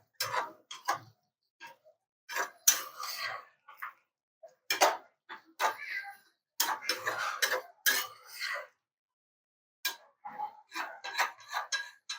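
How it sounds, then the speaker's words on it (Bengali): A spoon stirs curry in a cooking pot, giving soft, intermittent scrapes and light clinks close by in a quiet kitchen. "তো এখন হচ্ছে গিয়ে আমি আবার তরকারিটা একটু নাড়া দিব।"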